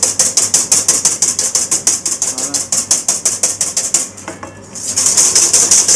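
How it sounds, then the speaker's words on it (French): A whisk beats egg whites to stiff peaks in a bowl during a cooking class making marble cake, a fast, regular rhythm of sharp clicking strokes that pauses briefly before resuming loudly. "Allez, je vais serrer les blancs."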